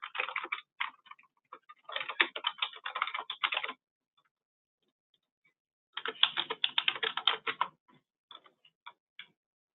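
Computer keyboard typing in two bursts of rapid, close key clicks while contest information is entered, separated by a quiet pause with a few scattered taps at the end.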